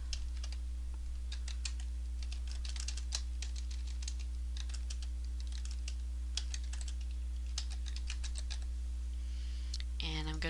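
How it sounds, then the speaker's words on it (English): Fingers type steadily on a computer keyboard, giving fast, close, crisp key clicks in bursts over a low electrical hum, and a short bit of speech comes at the end. "I'm going to go ahead and type."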